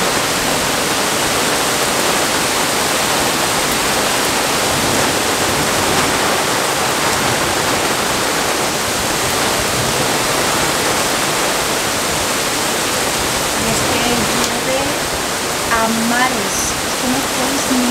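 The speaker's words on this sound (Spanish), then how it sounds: "la cantidad de agua que está cayendo del cielo ahora mismo" Torrential rain pours down during a DANA storm with flooding in Murcia, a loud, unbroken roar of falling water that fills the scene, with a voice briefly heard near the end.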